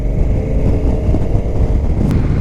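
A Honda NT1100 motorcycle engine accelerating on the road, a close, loud throbbing growl building steadily with rumbling low exhaust and rushing wind, no voices.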